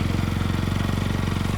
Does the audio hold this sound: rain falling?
no